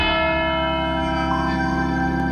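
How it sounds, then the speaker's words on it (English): Church bells at Town Clock Church ring loudly in a sustained, layered chime, their overlapping tones humming continuously with no pause. "And the bells are chiming loud."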